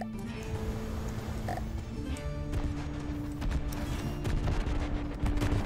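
Gunfire striking the player's vessel in the naval combat game From the Depths, a dense, continuous clatter of rapid impacts under a low rumbling engine drone.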